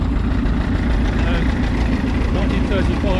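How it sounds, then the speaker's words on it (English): A 1935 International 220 track tractor engine idles at a ploughing match, a steady low rumbling chug close by, with people talking over it. "1935 International 220 track tractor."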